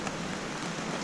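Steady rain pattering on the fabric of a Feldon Shelter Crow's Nest roof top tent, a close, even hiss of drops with no voices.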